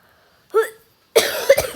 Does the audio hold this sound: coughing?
yes